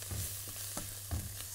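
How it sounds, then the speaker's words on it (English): Shallots, garlic and herbs fry steadily in a hot pan, a continuous close sizzle broken by soft scrapes and clacks as the mix is stirred. "Sizzling nicely. That's the sound you want to hear, yeah?"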